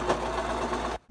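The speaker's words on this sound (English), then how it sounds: "I am just going to put my material here, let this pressure foot down, and then let's sew." A Brother LS2400 sewing machine runs steadily through material in a short, close burst, its motor hum stopping abruptly near the end.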